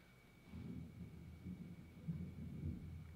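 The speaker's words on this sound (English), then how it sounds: "Ominous thunder as I said that." Faint, distant ominous thunder rumbles low and steady for a few seconds, with no voices present.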